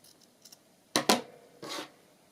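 A few quick snips of scissors trimming fabric for an easy-sew fabric cluster, three close crisp cuts in a row after a faint rustle, in a quiet room.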